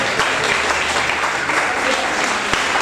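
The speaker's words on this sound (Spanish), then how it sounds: "Le damos un fuerte aplauso a Dios" A church congregation breaks into steady, full applause during a service, the sustained clapping holding evenly throughout with faint voices mixed in.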